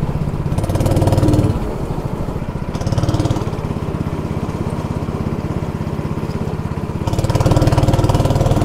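A small petrol engine on an amusement park ride vehicle, likely a go-kart, runs with a steady buzzing idle that rises into louder revving bursts as the accelerator is pressed, near and without talk.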